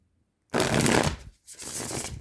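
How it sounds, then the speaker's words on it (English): A deck of playing cards is given a poker-style riffle shuffle, two loud close bursts of rapid fluttering card flicks separated by a short pause, with no talk. "I'll give them one more one more poker shuffle."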